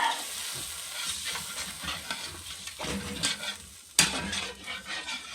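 A spoon or spatula stirs sweet and sour fish with oyster sauce and water in a sizzling frying pan, giving soft scraping and bubbling sounds with a couple of sharper clinks and no talking.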